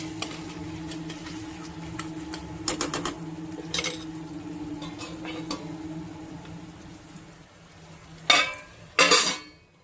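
A spoon scrapes and clatters in a pan as tomato is stirred into a green pea gravy, in short bursts of stirring over a soft background hum, with louder knocks toward the end.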